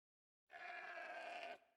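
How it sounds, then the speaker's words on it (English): A single sheep bleat sounds in a medieval strategy video game, one drawn-out nasal call lasting about a second, clear and isolated against silence. "They're going to fight over this sheep too."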